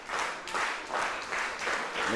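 A wrestling crowd applauds and cheers in rolling surges, the clapping swelling and easing in repeated waves, loud and close.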